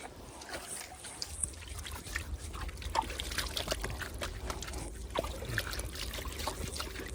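Water trickles and splashes steadily as hands are washed outdoors, a soft continuous running stream with faint background rumble, close by and without talk.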